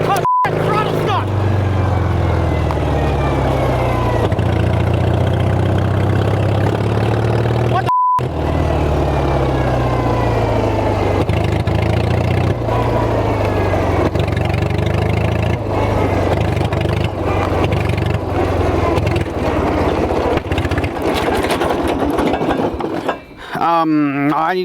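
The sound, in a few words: small engine running with stuck throttle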